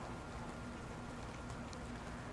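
Steady rain hisses down over an outdoor baseball game between Rock Memorial and Festus, a broad continuous wash of drops with a low background hum and no voices.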